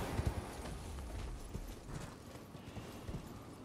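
Horse hooves galloping across ground in the Elden Ring video game, a rapid, soft clip-clop rhythm kept at low level over a broad rushing background.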